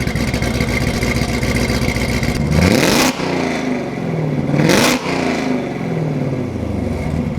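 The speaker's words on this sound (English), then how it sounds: "let's get some revs, hear what the exhaust sounds like." A loud, close engine idles with a deep rumble, then revs sharply twice, each rising roar dropping back to idle.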